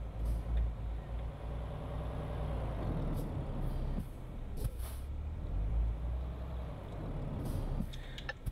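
A heavy truck in the Euro Truck Simulator 2 driving game rumbles steadily along, with several sharp hissing bursts from its air brakes scattered over the clip and no speech.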